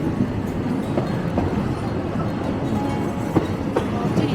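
Inside a Thai State Railway train on the Nam Tok line between Kanchanaburi and Bangkok, an open carriage with no windows or doors rumbles steadily, with faint rhythmic wheel clacks over a constant rolling roar.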